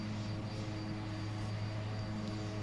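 Twin Otter twin-turboprop engines in a flight simulator game, a steady, even drone with a low hum and constant tonal whine, unbroken and moderately quiet throughout.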